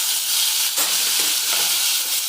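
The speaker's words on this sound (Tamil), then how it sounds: "நல்லா வதக்கிக்கலாம். நல்லா மசிய வதக்கிக்கலாம்." Onion, garlic and tomato sauté in a hot pan, giving a steady, close, loud sizzle and hiss that fills the clip, with faint stirring scrapes and no talk.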